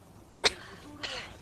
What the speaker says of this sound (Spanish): Otra vez estás tosiendo